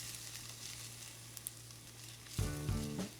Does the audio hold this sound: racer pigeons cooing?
no